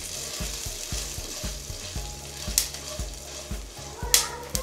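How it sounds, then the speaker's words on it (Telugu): Coriander seeds fry in a pan for gutti vankaya curry, giving a soft, steady sizzle with repeated light scraping stirs in a rhythmic pattern and a few sharper clinks. "అందులో ముందుగా తీసుకున్న ధనియాలు, వేసి ఫ్రై చేయాలి."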